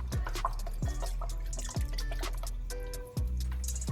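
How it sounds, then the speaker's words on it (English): Worcestershire sauce dribbles into a pot of homemade spaghetti sauce with tomato sauce and meat, giving a few soft close drips and splashes over a steady low background hum. "Now we're gonna add some Worcestershire sauce"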